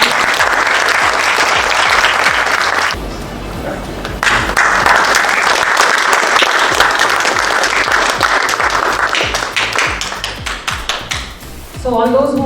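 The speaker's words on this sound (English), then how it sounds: "So huge round of applause for Prerna." An audience at a corporate event applauds, with dense clapping that dips briefly near the middle, resumes strongly and then thins into scattered claps before a short voice at the end.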